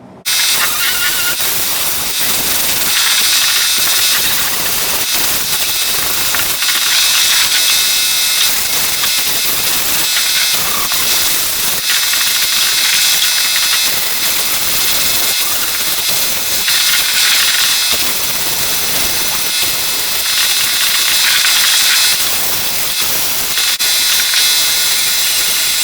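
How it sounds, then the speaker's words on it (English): A skiff hull is sanded smooth before fiberglassing, a loud, continuous rough whooshing grind that surges in repeated strokes for the whole stretch, with no voices. "I'm just going to come in here, sand all this out, and get it nice and smooth"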